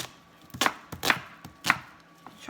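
Three sharp knife chops through an onion on a cutting board, spaced about half a second apart, close and crisp, with a quiet pause afterward.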